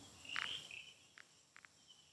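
A male cricket's call rings out as a longer, brighter chirp followed by a few short, soft pulses spaced apart. It sounds quiet and isolated against a faint steady background, with no voices.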